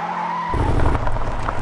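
Car tyres squeal and skid under hard braking into a curve in the Assoluto Racing game, a sudden loud screech that begins abruptly over the engine hum and keeps grinding to the end.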